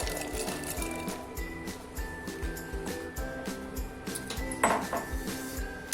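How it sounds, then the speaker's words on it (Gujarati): Soaked kidney beans tipped into a pot of hot salted water, with repeated clinks and knocks of utensil against the pot and a soft splash, fairly close and steady throughout. "બાફવામાં આપણે પહેલા નિમક નાખી દેશું અને જે આપણે પલાળેલા રાજમા છે તે આપણે નાખી દેશું"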